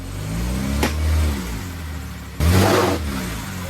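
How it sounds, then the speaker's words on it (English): Car engine revving hard in a short burnout beside a garage during a fog lamp install, a deep rumble with a brief rise near the start and a loud, rougher burst in the middle. "Just a small burnout."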